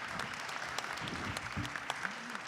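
Faint audience applause at the end of a debate, steady clapping at a distance with a few voices murmuring underneath.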